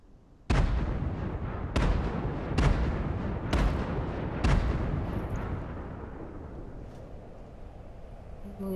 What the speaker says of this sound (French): Il y a un mec qui me tire dessus